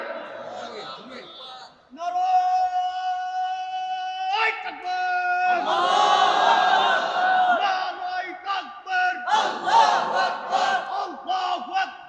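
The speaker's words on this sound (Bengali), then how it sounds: "তাকবীর ধ্বনি দিয়ে ওয়াদা করেন" A large crowd at an outdoor Islamic religious sermon gathering shouts the takbir together, loud unison chanted bursts repeating in waves with a leader's voice between them.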